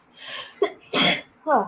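One sharp, close sneeze bursts out, preceded by a short intake of breath, followed by a brief voice.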